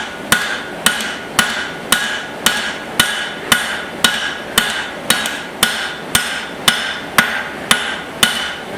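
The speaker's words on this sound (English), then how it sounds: "I am still widening this thing out with my cross peen." A cross peen hammer strikes hot steel on a beeswaxed anvil while forging a small axe, sixteen loud ringing blows in a steady, even rhythm, each with a bright metallic ring that decays before the next.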